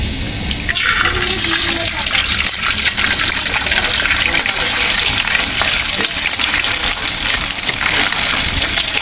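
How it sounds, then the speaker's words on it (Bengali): An egg cracked into a hot pan for a vegetable momo dish, followed by loud, dense, continuous frying sizzle close by for several seconds. "এখন আমি ডিমটা ভাঙে দিয়ে দিব"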